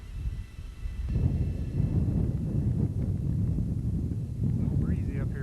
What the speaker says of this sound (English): A little breezy up here on top.